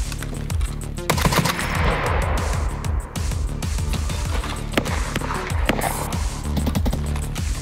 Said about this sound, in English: I'm gonna need 3 shots in the air from your friends